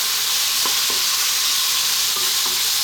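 Garlic ginger paste fries loudly in a pan for a chicken spinach curry, giving a dense, constant sizzle broken by a few soft scrapes of stirring.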